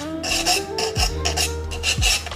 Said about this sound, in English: sanding stick